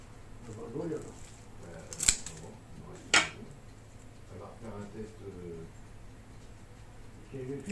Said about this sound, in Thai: ทีนี้เดี๋ยวซิลินจะตัดให้ดูข้างใน เอาตัวแช่แข็งก่อน